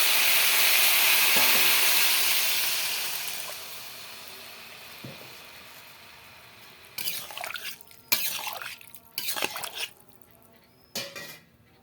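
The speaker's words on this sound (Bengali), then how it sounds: "সবজি ভালো করে কষানো হয়ে গেছে, এবার জল দিয়ে দেবো।" Water poured into a pan of sautéed vegetables on a home stove sends up a loud hissing sizzle that fades over several seconds, followed by clinks and clatters of a utensil against the pan.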